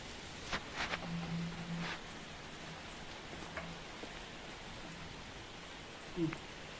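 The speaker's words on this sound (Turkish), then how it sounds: "yağmur yağar maşallah" Steady, soft hiss of rain falling throughout, fairly faint and even, with a few scattered knocks and light rustles.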